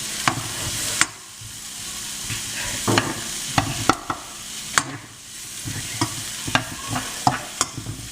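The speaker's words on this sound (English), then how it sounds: "So we want to brown up our onions," Chunky onions browning in a hot frying pan, with a steady close sizzle broken by repeated scraping stirs and clicks of a utensil against the pan.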